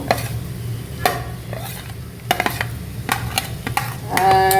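Shredded cabbage and cut vegetables stir-fried for chilli garlic chicken noodles, with a steady low sizzle under repeated scraping and clinking strokes of a utensil against the pan, growing busier near the end.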